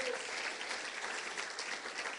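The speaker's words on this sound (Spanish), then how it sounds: "démosle un aplauso al Señor" A church congregation applauding during a Spanish-language sermon, a dense, even wash of clapping heard faintly from a distance, steady throughout with no voices on top.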